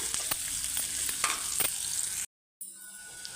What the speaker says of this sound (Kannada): ಸ್ವಲ್ಪ ಎಣ್ಣೆಯಲ್ಲಿ ಬಸಾಡ್ಕೊಂಡು ನೀಟಾಗಿ ತಿರುಗಾಡ್ಕೊಂಡು ಫ್ರೈ ಅದನ್ನು